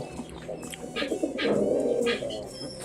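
A pigeon coos in short low bursts close by among other pet pigeons, with faint chirps and small bird movements around it.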